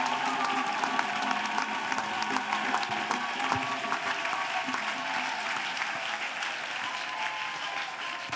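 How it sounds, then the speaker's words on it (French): A church congregation at a prayer and intercession gathering claps together in sustained, dense applause, steady throughout with faint crowd murmur underneath. "Let's clap for Jesus Christ."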